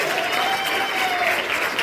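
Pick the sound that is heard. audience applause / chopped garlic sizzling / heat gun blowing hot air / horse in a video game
audience applause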